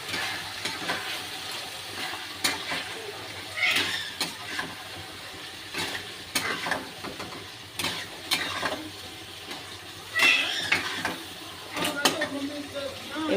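Chicken sautéing and being stirred in a pan for Bengali chicken kosha, steady close frying sizzle with intermittent scraping stir strokes and clinks, fairly soft overall.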